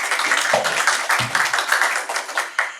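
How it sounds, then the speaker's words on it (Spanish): An audience at a talk on autism claps steadily, a brisk, dense patter of many hands at close range, with no voices over it. "Le brindamos un fuerte aplauso, por favor."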